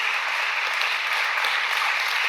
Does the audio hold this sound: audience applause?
yes